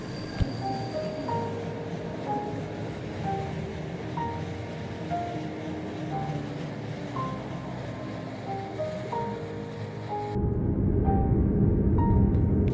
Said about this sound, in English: hoping that a train would pass by, my wish came true